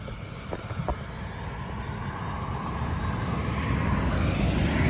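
A Yamaha N-Max155 scooter engine surging while running, a steady broadband engine roar that swells gradually louder over several seconds with a few brief knocks near the start, close up with no talking.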